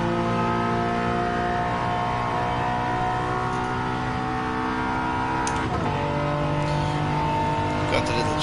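A VW GTI in Gran Turismo 7 drives a racing lap, its engine note holding a steady drone and then rising as the car accelerates, with tyres briefly chirping near the end.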